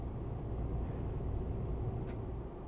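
An old Scania 143 truck engine in Euro Truck Simulator 2 hums as a low, quiet, steady drone, close and unbroken.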